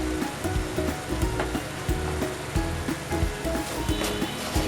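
Spices with salt, turmeric and Kashmiri red chilli powder sizzle and fry in hot oil for doi bhetki, with a steady crackling hiss and rhythmic scraping strokes of a stirring spoon.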